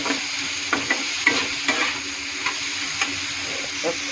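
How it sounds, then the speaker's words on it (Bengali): Food frying in a pan sizzles steadily while turmeric is stirred in, with a series of irregular scrapes and taps from the spoon, close and clear, and no talking. "হলুদটা ভালো করে নেড়ে চেড়ে মিক্স করে নেব।"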